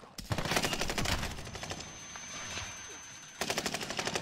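Rapid automatic gunfire in a first-person shooter video game, loud sustained bursts of repeated shots with a brief lull in the middle before firing resumes.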